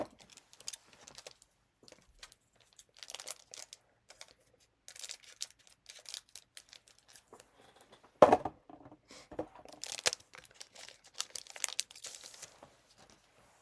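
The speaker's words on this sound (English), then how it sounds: "let's see what Undaunted Raid brings us. And if these packs are any easier to open, or we need scissors" Close crinkling and tearing of a foil trading card pack wrapper in short, scattered bursts with quiet gaps between, including a sharp rip partway through.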